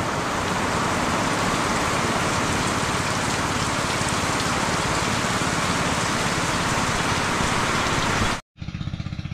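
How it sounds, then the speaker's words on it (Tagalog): Heavy typhoon rain pours down over rice fields in a dense, continuous roar, loud and close, cutting off abruptly near the end. "umariba na naman yung malakas na ulan."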